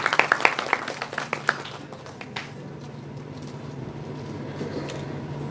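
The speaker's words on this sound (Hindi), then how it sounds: "जोरदार तालियों से स्वागत कीजिए।" Applause welcoming a speaker to the stage at a university induction programme's closing session: a few distinct separate claps at first, then a faint, diffuse patter fading into room noise.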